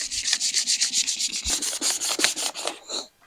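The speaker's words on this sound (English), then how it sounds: "But we'll sand it with some 320, try to get down to this base coat here, see what happens." Hand sanding car paint with 320 grit sandpaper down toward the base coat: rhythmic back-and-forth rubbing strokes, close and regular, about a dozen passes, stopping briefly near the end, with no talking.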